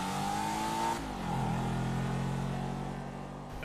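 A Debauchy Rapid GT two-door sports car in GTA 5 accelerates down a runway drag strip, its engine droning loudly in a steady whine that drops pitch briefly with a gear shift, then holds a constant roar.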